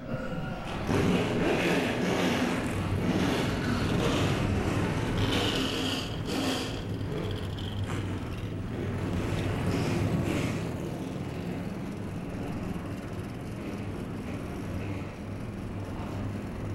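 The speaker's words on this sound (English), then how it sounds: "Start your engines." Stock car engines at a K&N Pro Series East race at Richmond's three-quarter-mile track fire up and run as a loud, continuous roar with deep low rumble, sustained throughout with slight surges.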